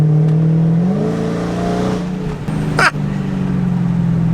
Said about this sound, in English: You're getting full like supercharger sound